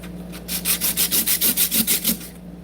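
A flat enamel piece is rubbed back and forth on a diamond-impregnated sharpening plate, making a steady run of about ten rhythmic gritty scrapes, close and clear with no talk.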